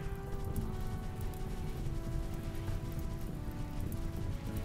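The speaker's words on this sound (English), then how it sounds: "Oh, finally. It started raining." Steady rain falls in the RimWorld video game, a soft continuous patter of drops on a surface, even and moderately quiet with no voices.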